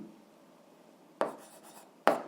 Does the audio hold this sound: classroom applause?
no